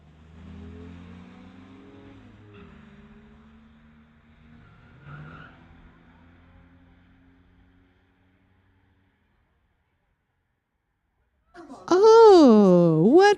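Street legal cars drag racing on the Titanium Strip at Mission Raceway in the Junior Street class: a revving engine drones and shifts, then fades to near silence before a sudden loud, wavering squeal bursts in at the end.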